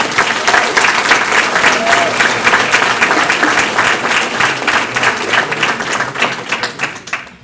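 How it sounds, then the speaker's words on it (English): A crowd at a county Republican forum gives a basketball team a loud, sustained round of applause lasting over seven seconds, dense clapping that tapers slightly at the end. "let's give them a round of applause"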